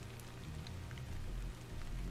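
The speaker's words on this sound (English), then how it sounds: "This must be Earth's rain." Rain falls in the Stellar Blade video game, a soft steady patter of drops on surfaces with a low background rumble, quiet and unbroken, no voices.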